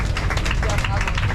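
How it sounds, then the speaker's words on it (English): A tour crowd riding a Universal Hollywood backlot tram claps for their driver, a brief burst of dense, even applause mixed with murmuring voices. "how about a big round of applause for the person who made this all possible"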